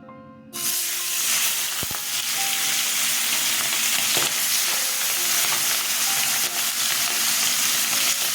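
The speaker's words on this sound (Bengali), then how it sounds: "এদিকে তেল গরম হয়ে গেছে মাছ ভেজে দিচ্ছি" Bata fish are dropped into hot oil, and after a moment of near silence a loud, dense sizzle bursts out and holds steady, crackling and hissing close up with occasional clinks.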